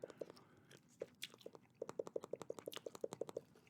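Gum chewed close to a GameCube microphone makes steady, wet smacking clicks in a fast, even rhythm. A few scattered chews come first, then a long unbroken run, loud and intimate, with no talking.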